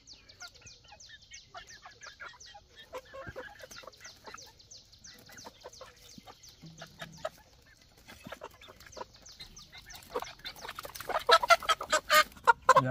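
Chickens on a farm cluck and call steadily over a long stretch, with quick pecking-like clicks throughout and a louder, busier burst of clucking near the end, close by and without clear talk.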